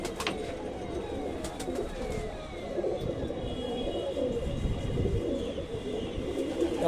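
Pigeons kept by a seller in Kolkata coo softly amid a steady, noisy outdoor background, with faint distant traffic and bird chatter running throughout.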